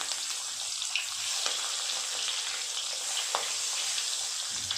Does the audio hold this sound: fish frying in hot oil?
yes